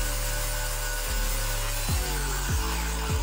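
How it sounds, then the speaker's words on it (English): Power tool grinding down a weld flush on metal: a continuous loud abrasive whir close up, with the motor pitch dipping sharply several times as the disc bites and then recovering. "we can go ahead and grind that off to flushing it out to make it look like there was never even a hole there"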